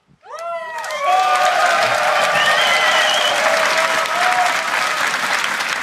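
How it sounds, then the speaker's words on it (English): A large arena crowd applauds and cheers the Fnatic team on stage as League of Legends EU LCS Spring Split champions, swelling quickly into loud, sustained clapping with whistles and shouts that continues throughout. "An applause is in order for these guys, the Spring Split champions once again."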